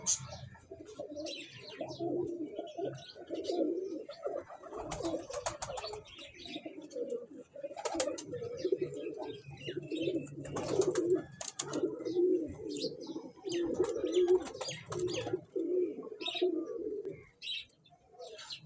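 Flying pigeons at a pigeon club in Chishtian coo steadily in soft, low, rolling calls, repeating throughout alongside scattered chirps and light handling noise.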